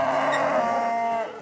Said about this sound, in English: And you can certainly see the cows up close